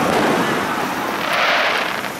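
Fourth of July fireworks at an outdoor celebration: a steady wash of crackling, hissing bursts fills the whole stretch, close and fairly loud, with no clear single bangs standing out.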